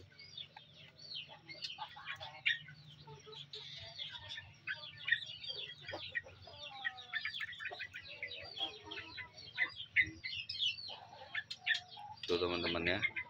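A male sooty-headed bulbul calls in repeated bright chirping phrases close by. A person speaks softly throughout, and a louder rustling burst comes near the end.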